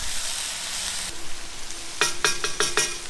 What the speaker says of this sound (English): let them sizzle away, get those onions cooked through